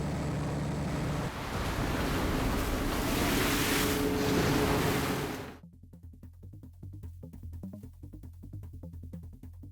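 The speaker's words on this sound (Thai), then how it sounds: "เนื่องจากคลื่นซัดเข้ามาอย่างรุนแรง" Loud rushing surf and crashing waves with wind roar in rough, stormy seas aboard a snow crab fishing boat, dropping away after several seconds to a quieter rhythmic mechanical thumping.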